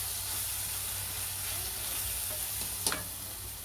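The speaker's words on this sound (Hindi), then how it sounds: "अब इसमें ये सारे सूखे मसाले डालेंगे, और इसको भी हम अच्छे से भून लेंगे अभी" Dry spices frying in a tomato masala for paneer tikka masala, giving a soft, steady sizzle with a faint stirring scrape near the end, heard alone without talk.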